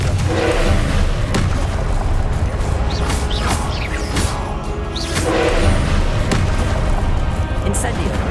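Confringo blasting-spell explosions in Hogwarts Legacy, dense booming blasts and crashing impacts in a loud, busy combat mix, with voices calling out over the din.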